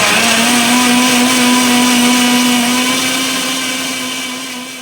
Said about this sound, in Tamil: இதை க்ளோஸ் பண்ணிவிட்டு மறுபடியும் மிக்சியில் நல்லா பேஸ்ட் மாதிரி அரைச்சிட்டு வந்துடலாம்.